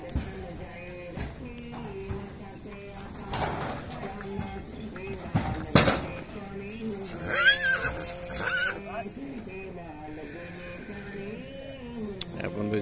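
Horse at a horse market whinnying amid a crowd, with bursts of neighing and shuffling under near, ongoing conversation among several people.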